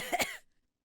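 A single short cough, two quick close bursts that fade into silence.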